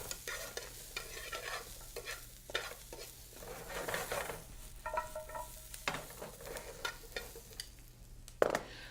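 Mushrooms frying in a little clarified butter, a steady close sizzle broken by repeated stirring scrapes and clinks of a utensil against the pan, with no talking.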